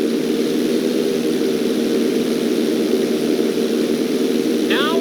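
Steady, loud drone of a fixed-wing propeller airplane in flight in the GTA 5 video game, running continuously and close throughout, with a brief whooshing sweep near the end.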